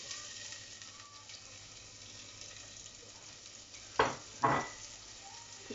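Leek hits hot oil in a pan, giving a soft, steady sizzle close by, with two sharp bursts of crackle and clatter near the end as it is stirred or added.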